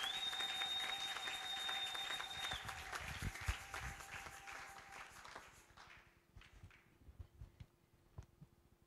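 A church congregation claps and cheers, steady loud applause with a sustained tone that thins out into scattered claps toward the end.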